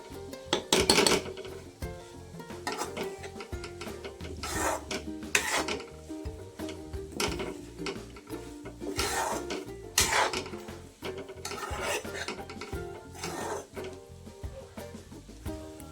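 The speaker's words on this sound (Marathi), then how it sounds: "थोडा थोडा वेळ खरवडा राहायचा आहे" A spoon scrapes podi upma across the bottom of a pan to keep it from sticking, giving repeated close rasping strokes in an uneven rhythm with occasional metallic clinks, and no speech.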